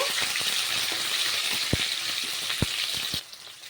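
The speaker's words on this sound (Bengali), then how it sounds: "কুচি করে রাখা পেঁয়াজটা দিয়ে দেবো পেঁয়াজটাকে একটু ভেজে নেব" Chopped onions frying in hot oil for Bengali ghugni, a continuous loud sizzle broken by several dull knocks of a spoon against the pan before the sizzle suddenly drops away near the end.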